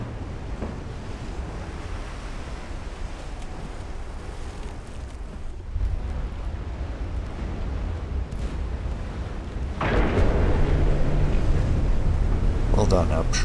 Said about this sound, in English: Ooh, torpedo detonation.